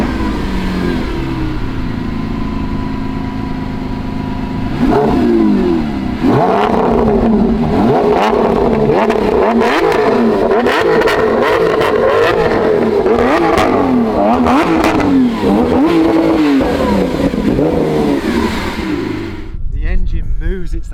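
A Lamborghini Aventador SVJ V12 engine idles, then revs hard several times in rising and falling bursts, loud and close, before cutting off near the end.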